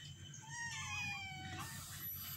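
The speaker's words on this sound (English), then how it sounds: "small cats living with the others in this balcony" Young kittens about 29 days old meow on a balcony, several thin, high cries that rise and fall in quick succession, fairly close and clear with no talking.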